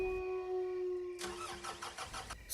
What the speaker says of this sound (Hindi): गाड़ी चालू नहीं है।